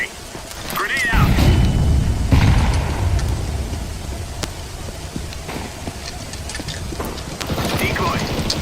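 A grenade goes off in a video game, a loud, heavy low-frequency burst about a second in that rumbles and decays over a couple of seconds, followed by scattered game sounds and crackling debris, with a player speaking.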